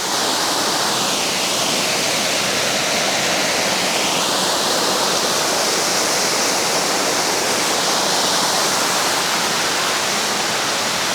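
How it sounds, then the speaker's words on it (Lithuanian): A waterfall in Vietnam roars with dense, continuous rushing water, close and loud, steady from start to finish with no voices. "Čia tas pats krioklys, va čia leidžias."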